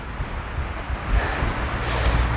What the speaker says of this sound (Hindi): काफ़ी मस्त हवा चली हुई है।